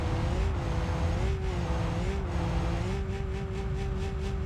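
An off-road buggy in BeamNG Drive labours down a deadly steep slope with poor suspension; its engine drones steadily with a wavering pitch, and a rapid run of rhythmic thumps comes near the end.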